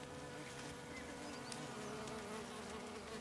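Wild honey bees buzzing around their hive in a forest, a dense continuous drone of many wings, steady and moderately close, with no other sounds.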